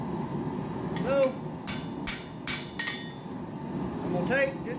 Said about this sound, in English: I'm going to hammer on this, get those real sharp corners flattened down and beveled a little bit.